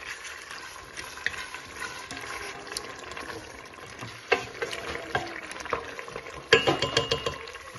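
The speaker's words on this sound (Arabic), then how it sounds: "كتشحر ليا الدجاج ديالي مزيان" Chicken searing and frying in a pot for a Moroccan Msfiwi-style njimat dish, with a steady close sizzle, occasional stirring scrapes and louder bursts of crackle toward the end; no talking.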